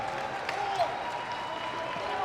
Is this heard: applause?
yes